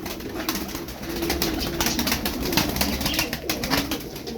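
Tumbler pigeons of many colours coo softly amid a steady noisy background, with scattered fluttering and rustling bursts throughout.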